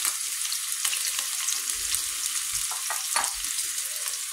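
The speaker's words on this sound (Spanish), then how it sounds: "el aceite yo creo que ya está. Echaremos la cebolla, los ajos, bueno, todos los vegetales" Onion, garlic, carrot and peppers frying in hot oil in a pan give a steady, close sizzle and crackle, with occasional soft stirring knocks throughout.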